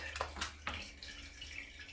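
Water poured over thick-soled flip-flops to test them wet, a steady close trickle and splash with a few sharper splashes near the start, heard alone.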